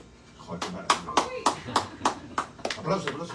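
A small group claps in a loose rhythm, about ten distinct, fairly close claps, with voices audible underneath.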